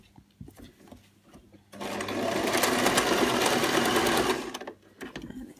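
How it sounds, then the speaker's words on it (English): A sewing machine runs for about three seconds in one continuous, steady buzzing burst while stitching shirring lines at right angles to earlier rows for a waffle-cloth effect, with quiet handling noises before and after. "So we're now sewing 90 degrees to our original shirring lines"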